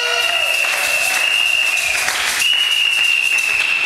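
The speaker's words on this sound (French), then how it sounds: "quand on applaudit pour le Seigneur" Loud, steady applause from a large church congregation during a sermon, continuous throughout with a sustained high tone ringing above the clapping.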